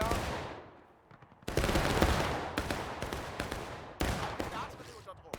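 Musket volleys fire in the American Civil War game War of Rights. Two or three sharp, loud cracks land close together, each trailing off into echoing rumble, and a faint voice is heard beneath.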